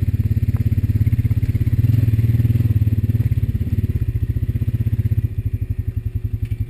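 A Honda Rancher 420 ATV engine chugs close by with a steady, rapid low-pitched pulse while riding a trail, then shifts to a slower, more distinct thumping rhythm near the end.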